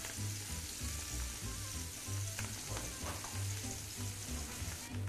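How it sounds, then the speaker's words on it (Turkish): Halloumi cheese slices fry in a pan, giving a steady crackling sizzle with a low bubbling undertone, close and continuous without talking. "Pişerken hellimleri çok fazla çevirmemek lazım."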